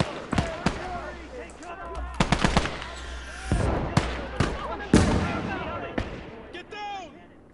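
An LEIG infantry gun firing in the war game Close Combat, loud sharp blasts repeated amid other battle gunfire and shouted soldier voices, booming reports spaced irregularly across the scene.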